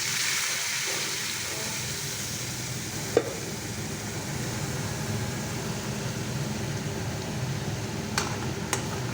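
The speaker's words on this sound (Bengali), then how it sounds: "এই মশলাটা দিয়ে এটা একটু আমি ভাজা ভাজা করছি" Spice paste frying in a pan, a low steady sizzle with gentle stirring throughout and a couple of brief utensil clicks against the pan.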